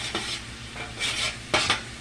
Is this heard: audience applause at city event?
no